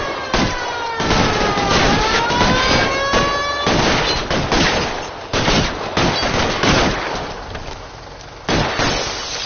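Bursts of gunfire ring out during a bank robbery in L.A. Noire, with rapid volleys and single loud shots, shattering glass and a siren wailing underneath, all close and harsh.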